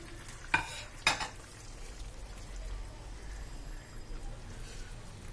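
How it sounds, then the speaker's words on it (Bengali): Raw chicken pieces tipped into a simmering tikka masala gravy in a pan, giving two sharp splashing thumps followed by a steady soft bubbling and sizzle, close by with no talking. "গ্রেভিটা রেডি হয়ে গেছে, এবার আমি সমস্ত চিকেনগুলো এর মধ্যে সব দিয়ে দিলাম।"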